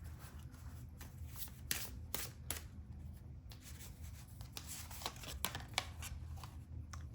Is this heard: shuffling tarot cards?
yes